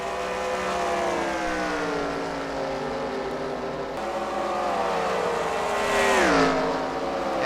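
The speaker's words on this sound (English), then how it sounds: "This car's leaving the pit road." A race car leaves pit road in a NASCAR-style racing video game at Homestead-Miami. The loud, steady engine drone bends in pitch as it accelerates and shifts, with no talking.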